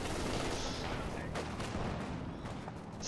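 Gunfire from the World War II strategy game Company of Heroes 2 comes as dense, rapid bursts of shots under distant battle noise, quiet in the mix and continuous throughout.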